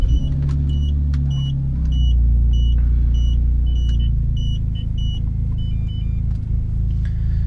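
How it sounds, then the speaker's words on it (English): A BMW 328i idles with its exhaust cutout open and the muffler bypassed, a loud, close, deep rumble that settles into a steady burble. Faint electronic chimes sound over it. "let's turn on the car just so you can hear what it sounds like."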